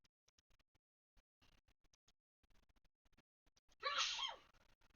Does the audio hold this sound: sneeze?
yes